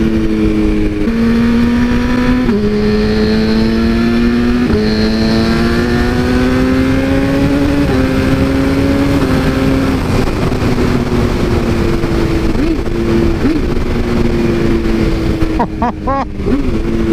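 A BMW S1000RR sport motorcycle with a remapped ECU revs hard and close, its engine note climbing through several gears in steady rising sweeps before easing off, a loud continuous howl with wind rush at the end.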